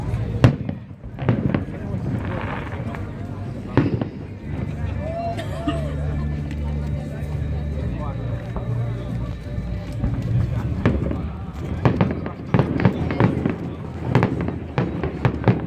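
Fourth of July fireworks over Tempe Town Lake in Tempe, Arizona: repeated booms and crackling bursts, some sharp and close, under steady crowd chatter and people talking.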